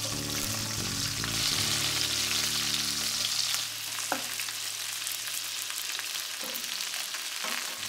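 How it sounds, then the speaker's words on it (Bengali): A fish head sizzles in oil over medium heat, a steady crackling fry with occasional stirring or scraping clicks, close and continuous with no talk. "সবশেষে মাছের মাথাটা ভাজব, মাঝারি আঁচে সময় নিয়ে ভাজতে হবে"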